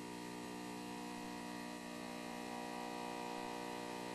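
A generator unit runs locked to 60 hertz line frequency at 3600 RPM, giving a steady, unbroken electrical hum with layered harmonic tones, moderately close and constant throughout with no talking.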